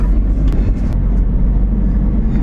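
A car pulls away as the handbrake and clutch are released, a loud, close, steady low rumble of engine and road noise throughout the short moment.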